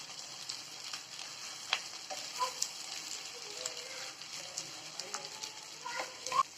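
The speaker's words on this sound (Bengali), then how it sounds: "এই যে আমাদের মাছ ফ্রাই এখন হয়ে গেছে" Hilsa fish frying in a pan, a faint steady sizzle broken by small crackles and soft stirring clinks.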